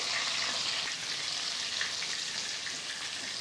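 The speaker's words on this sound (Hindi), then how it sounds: "फ्लेम को हाई करके हमें कीमे को अच्छी तरह से अदरक लहसुन के साथ फ्राई करना है।" Steady, loud sizzling of minced chicken frying with ginger-garlic paste in hot oil over high flame, a dense crackle that continues without a break.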